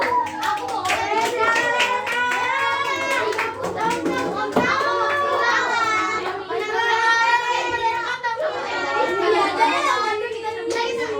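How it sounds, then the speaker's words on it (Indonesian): A classroom of children gives group one a lively round of clapping, hands beating in a dense, uneven patter for several seconds, with children's chatter and voices mixed throughout. "Kita beri tepuk tangan meriah untuk kelompok satu."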